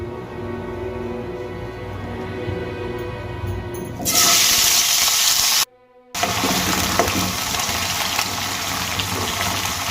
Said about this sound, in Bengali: এবার এই তেলের মধ্যে আমি সজনে ডাঁটাগুলো ভেজে নেব।